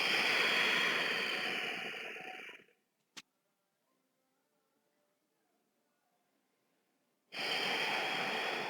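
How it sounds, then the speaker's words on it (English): Breathing during a morning yoga session: a long, loud breath, a brief click, several seconds of near silence, then another strong breath, alone without talk. "Take a couple of breaths here."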